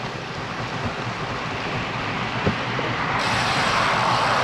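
Strong gusting wind roars steadily against a moving bicycle on suburban Kingwood streets, a broad rushing buffeting that swells louder in the final second, with no voices.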